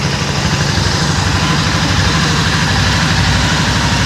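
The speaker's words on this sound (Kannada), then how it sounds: "ಇಂಜಿನ್ ಸೌಂಡ್ ಕೂಡ ಕೇಳಿಸ್ಕೊತಾ ಇದ್ದೀರಾ ನೀವು" A Royal Enfield Continental GT650 parallel-twin motorcycle idles steadily nearby, a loud, even low throb with a fast regular pulse and no voices.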